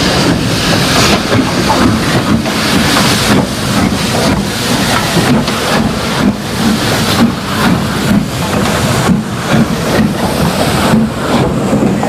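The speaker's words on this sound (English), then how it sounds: "45160 returned to Britain in 1989 and was immediately steamed at the Swanage Railway on this demonstration freight" Steam locomotive 45160 hauls a demonstration freight on the Swanage Railway, a loud, continuous rolling rumble with a rhythmic clatter of wheels, buffeted by wind noise throughout and no voices.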